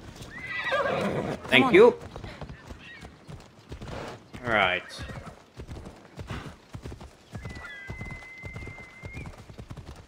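A horse in Assassin's Creed Odyssey whinnies loudly near the start, then its hooves clip-clop in a quick, regular rhythm while a person talks over the sounds.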